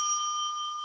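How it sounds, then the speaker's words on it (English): A hand bell rung as a time signal gives a single clear, sustained metallic ring that holds steady and slowly fades. "I will signal them gently with a bell"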